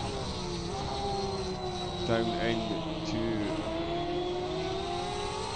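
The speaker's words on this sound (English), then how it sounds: "Love the sound of these engines bouncing off the wall." GTE race car engines at Spa in the Automobilista 2 racing game, roaring and echoing off the walls with several cars revving past, under continuous commentary.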